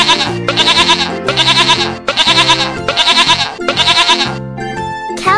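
A goat bleats in a game sound effect, a run of about six loud, wavering cries in steady rhythm, close and clear with no voices.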